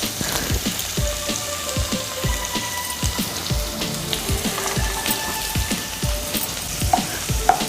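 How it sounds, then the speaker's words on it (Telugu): Garlic, onion, green chili and turmeric fry in hot oil for a curry tempering, a steady close sizzle with repeated rhythmic scrapes of stirring in the pan. "దోరగా వేగనిద్దాం."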